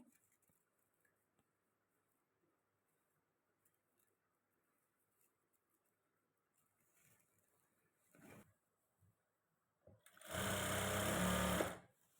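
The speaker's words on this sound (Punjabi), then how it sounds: "ਹੁਣ ਆਪਾਂ ਇਹਨੂੰ ਸੈੱਟ ਕਰਕੇ ਜੀ ਸਲਾਈ ਲਗਾ ਦੇਣੀ ਹੈ" A sewing machine stitches a kali-panel lehenga, first with faint handling and a short burst, then a loud, close, continuous whirring run of about two seconds.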